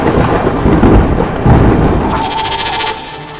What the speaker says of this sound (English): Storm blasting them with the strongest winds and lightning blasts she can summon